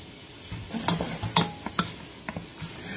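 Onion and garlic hitting a hot pan for scalloped potatoes, a soft sizzle with a few sharp clinks and stirring taps, close and fairly quiet, with no talking.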